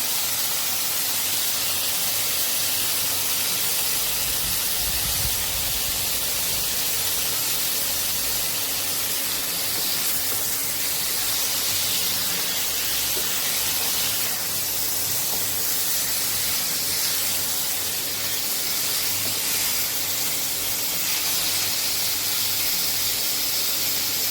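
Young jackfruit and potatoes with turmeric and salt fry in oil in a pan, a constant soft hiss and sizzle throughout with a brief low thump early on, no speech.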